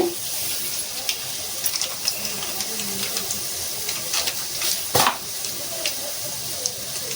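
Mustard seeds crackle and sizzle in hot oil for a mango pickle, a steady close frying hiss with small pops throughout and one sharper spatter burst near the end.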